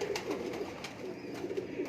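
Lakha breed pigeons coo steadily in a loft, soft low murmuring calls overlapping throughout with a few sharper rustles, close and continuous with no talking.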